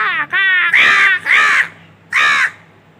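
A crow caws loudly and close by, several harsh calls in quick succession and then one more after a short gap, with no other sounds around them.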